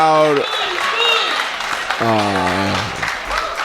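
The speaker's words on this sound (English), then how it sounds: "clapping here, round of applause" Wrestling crowd at a live match clapping in a steady patter beneath loud, close voices, with the applause holding at moderate level throughout.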